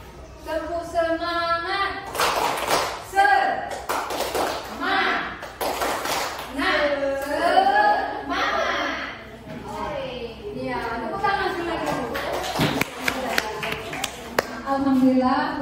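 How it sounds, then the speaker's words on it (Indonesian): A group in an Indonesian school setting performs the 'tepuk semangat' spirit clap, sharp rhythmic hand claps and taps in patterned bursts, mixed with voices of adults and children chanting and talking over it. "Coba Bu ya dipandu tepuk semangat."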